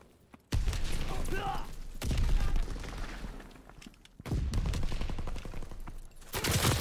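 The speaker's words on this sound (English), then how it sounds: "gunshots everywhere, man" Rapid bursts of gunfire in Call of Duty: WWII crackle across the clip, loud and close, with brief pauses between volleys.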